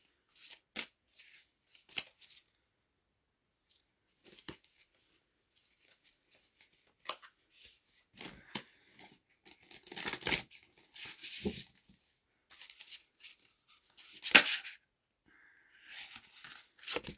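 Tarot cards being shuffled and drawn, with soft papery riffles, flicks and slaps scattered irregularly and close by, a louder burst near the end, and no voices.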